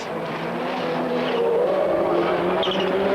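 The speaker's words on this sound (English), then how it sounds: "just drifting the car around beautifully and smoothly" A rallycross car racing in Finland in 1999 drifts with a rising, sustained engine note and tire squeal, close and loud throughout.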